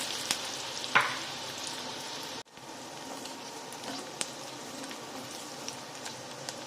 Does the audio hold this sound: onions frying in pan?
yes